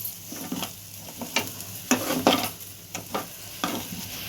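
Rice and lentils stirred in hot mustard oil for khichuri, with a spoon scraping and scooping in repeated strokes over a crackling sizzle, nearby and moderately loud.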